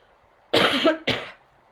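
Two sharp coughs in quick succession, close and loud, with a brief pause between them and quiet before and after.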